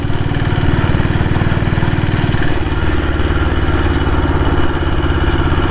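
A 1998 Royal Enfield Bullet diesel motorcycle engine runs steadily and close by, its low, even thumping beat loud and continuous throughout, with a slight shift in tone partway through.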